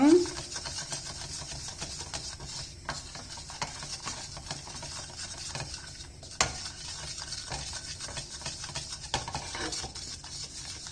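Steady scraping and stirring of modelling dough cooking in a saucepan with a faint sizzle underneath, continuous throughout with occasional louder scrapes.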